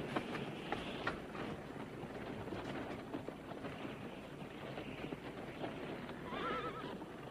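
Several horses pull a wagon down a dirt road in an Old West setting, with continuous clip-clop of hooves, rattling wheels and a horse's whinny. The sound rises as the team draws nearer.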